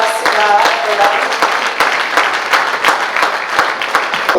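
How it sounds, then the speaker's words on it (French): Applause fills a wedding celebration at Grace and Truth church in the Bronx, a steady wash of many hands clapping for several seconds, loud and dense throughout. "Can we give a round of applause to God for them?"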